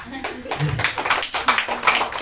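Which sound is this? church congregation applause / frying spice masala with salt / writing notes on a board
church congregation applause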